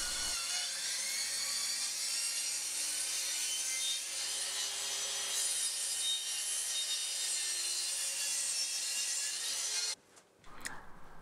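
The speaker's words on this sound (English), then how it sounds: "this track saw really does a great job cutting out these strange shapes like triangles" A track saw slices a triangle shape out of wood for a scarf rack, giving a steady, loud, high whining cut for about ten seconds before it winds down and stops, followed by brief clatter.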